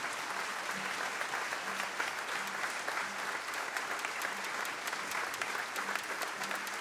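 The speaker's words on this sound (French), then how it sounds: "je voudrais qu'on leur adresse un très fort applaudissement pour cela" A New Year concert audience applauds steadily at moderate distance, a dense wash of clapping that carries on evenly throughout, with a faint repeating low hum underneath.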